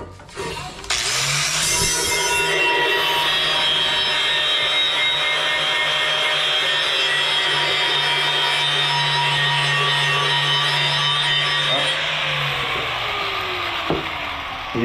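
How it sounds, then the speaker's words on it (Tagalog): Angle grinder with a cutting disc slicing through tile, a loud sustained whine with scraping grit that starts after a short pause, runs steadily and then winds down near the end. "Dalawang grinder yung gamit niya. Pamutol."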